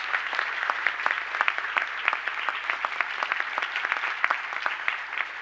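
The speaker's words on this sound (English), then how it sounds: "Let's give them both a big round of applause" Applause from an audience at a high school rededication ceremony: many hands clapping in a continuous, moderately loud patter with distinct individual claps standing out, sustained throughout.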